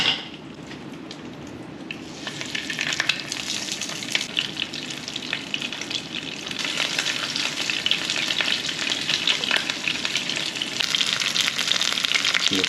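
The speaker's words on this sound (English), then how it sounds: "I'm gonna fry them for a little bit." Panko-breaded fish for tacos fries in a pan in Hawaii, giving a close, dense, crackling sizzle that builds slightly and continues without a break.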